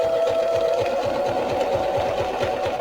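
Sewing machine stitching slowly through multiple layers of paper in a farmhouse-style handmade journal, a steady rapid needle chatter with a constant motor hum, close and continuous.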